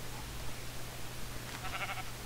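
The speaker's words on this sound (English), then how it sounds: "Where have you gone, Mr. Sheep?" A sheep in Minecraft bleats briefly in the second half, a short wavering cry over a steady low background hum, with no talking.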